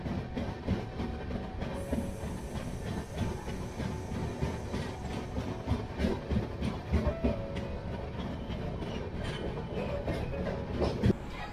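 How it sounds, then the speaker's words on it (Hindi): A WAG-series electric locomotive hauls a passenger train on Indian Railways, steady rumble with rhythmic clickety-clack of wheels over rail joints, continuous and fairly close, no talk. "WAG सीरीज का लोकोमोटिव इसको स्टेशन से शायद यार्ड की तरफ ले जाने के लिए आया है।"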